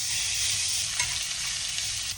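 Shrimp frying in oil in a pan with a light dusting of Old Bay, a steady bright hiss of sizzling heard close and continuous, with no talking.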